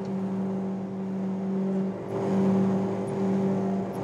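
A boat engine on a calm sea running steadily at high speed, around 55 km/h, as a constant loud droning hum that swells slightly midway, with no voices.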